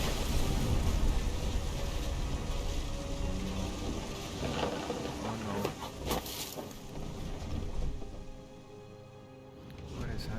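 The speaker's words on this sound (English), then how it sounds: "The thunder sounded much too close and full of angry power." A storm scene in the video game What Remains of Edith Finch: a heavy, continuous roar of rain and gusting wind with deep rumbling swells, loud and close throughout.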